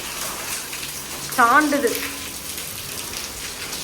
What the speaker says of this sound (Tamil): அதுவே இவ்வளோ மழை.